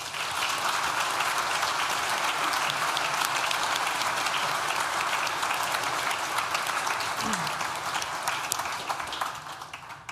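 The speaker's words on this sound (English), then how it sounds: "please join me in thanking them with a well-deserved round of applause" A large graduation ceremony audience for a law school gives a long, even round of applause, dense clapping from many people that holds steady and begins to fade near the end.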